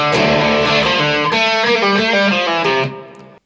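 Electric guitar tuned to drop D plays the intro riff of a song: loud, sustained and close, with busy strummed notes that ring out together and cut off just before the end. No voices.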